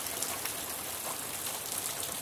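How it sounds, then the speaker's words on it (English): Rain falls outside during a storm as a steady, dense hiss of drops on surfaces. It sounds close and constant, with no voices over it. "I'm so happy it's raining."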